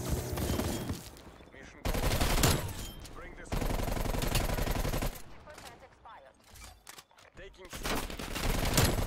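QBZ-83 rifle fire in Call of Duty Cold War, with loud rapid automatic bursts coming in several blocks separated by short gaps, and a voice briefly over the shooting.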